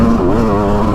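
A Beta 200RR dirt bike engine revs steadily at close range, its buzzing two-stroke-style drone holding a constant pitch with slight wavering and no talk over it.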